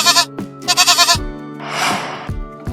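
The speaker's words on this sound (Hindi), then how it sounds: "This is goat." A goat bleats in two loud, wavering calls, with a breathy rustling noise between them and a short third bleat starting at the end, close and clear with no talking.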